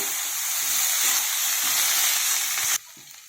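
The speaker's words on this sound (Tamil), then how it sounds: "கீரை போட்டு வதக்கிடலாங்க" Drumstick greens sauté in oil in a pan, a steady close sizzling hiss with soft stirring knocks that cuts off sharply near the end, leaving near quiet.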